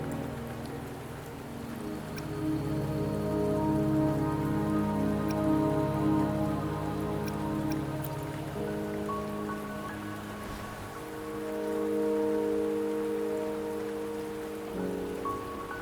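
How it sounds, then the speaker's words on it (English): Steady rain falls in the Wuthering Waves game, a continuous patter layered over a soft, sustained musical drone with no speech. "Don't worry, the rain won't last much longer."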